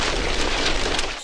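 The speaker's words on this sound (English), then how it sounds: "Ammunition starts to detonate." Ammunition detonating inside a burning Russian armored vehicle: a dense, continuous roar of crackling bursts and pops with low rumbling booms, loud and sustained throughout.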